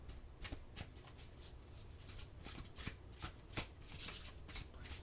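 Oracle cards shuffled by hand during a tarot-style reading, a steady run of soft papery riffles and flicks with sharper snaps every half second or so, close and alone.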